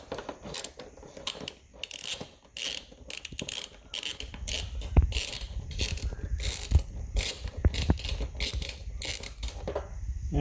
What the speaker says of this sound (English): here is my wrench for 10 millimeter and change the direction